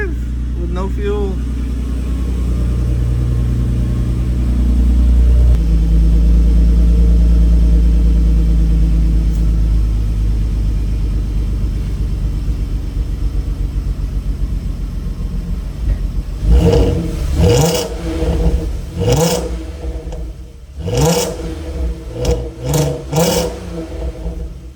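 A Nissan R32 with existing damage fires up and runs with a steady low rumble. Later come several sharp, loud revs in quick bursts, with voices heard over the engine at the start.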